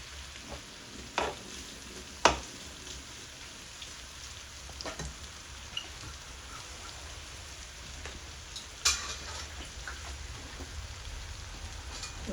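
Ginger garlic paste and green chilli sautéing in a pan for egg kothu roti, a soft steady sizzle with occasional louder stirring clicks and scrapes, no talking.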